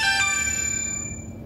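A phone ringtone sounds indoors, a bright tonal chime that rings out briefly and then fades away within about a second, alone without talk.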